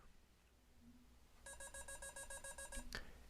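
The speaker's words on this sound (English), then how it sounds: "When you press the dit lever, the keyer makes a perfect dit sound" After a short quiet stretch, a Morse code keyer sends a rapid even train of identical short dit beeps for about a second and a half, then stops.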